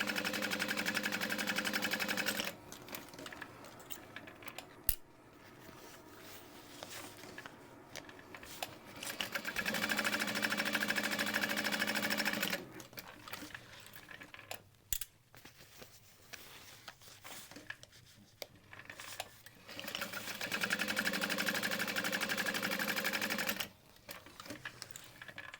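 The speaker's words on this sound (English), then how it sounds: "you want to make sure that you're folding the top one out of the way as you top stitch the next." A sewing machine topstitching a fabric wristlet runs in steady stretches, a fast even whirr that stops and restarts several times with quiet gaps in between.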